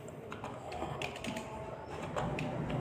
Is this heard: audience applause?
no